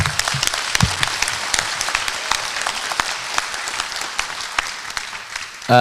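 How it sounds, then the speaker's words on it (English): Audience at a town hall meeting in New York breaks into sustained, dense applause, steady clapping filling the room for several seconds before tapering. "So if you can, a round of applause for Bernard."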